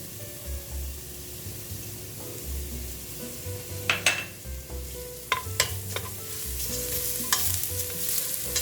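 Onion and garlic sautéing in a pan for miswa with meatballs, a continuous soft sizzle with occasional sharp clinks and scrapes of a spatula stirring, close up.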